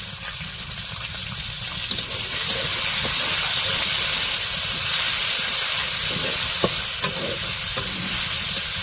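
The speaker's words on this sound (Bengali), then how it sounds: "তো পেঁয়াজগুলো এখন হচ্ছে হালকা ভাজে নেব।" Onions sizzle and hiss steadily in oil in a pan over a village stove, the frying growing louder after about two seconds, with a few soft stirring scrapes and no talking.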